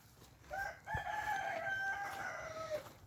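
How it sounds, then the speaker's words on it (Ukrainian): A rooster crows once, a clear, drawn-out cock-a-doodle-doo at moderate distance, with faint background noise. "Півник кукурікає."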